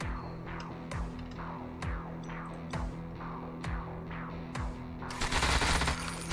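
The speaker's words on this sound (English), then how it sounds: "And the turrets will get their damage in." Turrets in the video game Shadowrun Chronicles firing in regular repeated bursts, each shot a sharp electronic blast with a falling tail, loud and close, ending in a dense noisy burst.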